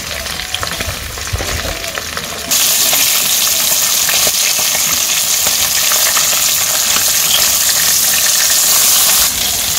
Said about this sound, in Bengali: আমার মাছ ভাজা শেষ, আর নামিয়ে নেই।